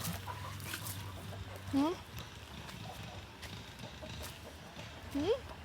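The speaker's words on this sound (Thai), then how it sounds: "ไก่จะเข้านอน เทเลยค่ะ เดี๋ยวไก่เขาจะมากินเองนะคะ" Backyard chickens heading to roost let out two short, rising clucks about three seconds apart, heard against a low background murmur with a voice speaking.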